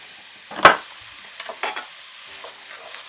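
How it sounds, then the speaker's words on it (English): Onions sweating in a pan with fat give a soft sizzle, broken by a sharp scrape or stir and a few lighter stirring clatters, close and otherwise quiet. "Go into the onions, sweat until translucent."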